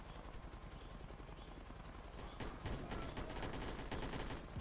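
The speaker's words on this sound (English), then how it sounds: "We're getting shot at." Video game gunfire in BRM5 crackles and rattles in dense bursts at a moderate distance, growing louder and busier in the second half, with no talking.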